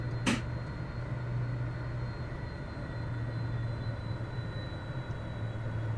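A HondaJet taxiing in Microsoft Flight Simulator 2024, a steady low jet-engine hum with a faint high whine running throughout, plus one brief sharp click near the start.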